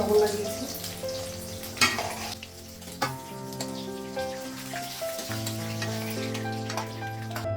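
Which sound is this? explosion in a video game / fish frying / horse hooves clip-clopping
fish frying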